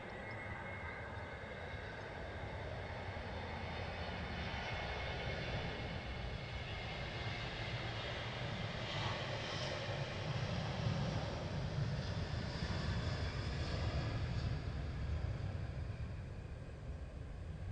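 Cargolux Boeing 747 cargo jet in special mask livery at Stansted Airport, a faint, distant low engine rumble that swells gently midway and lingers, with no talk.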